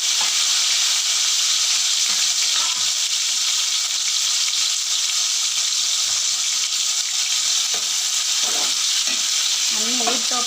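Onions frying in oil for an eggplant curry give a loud, steady sizzle that fills the whole clip, with occasional stirring scrapes and clinks near the end and no voices.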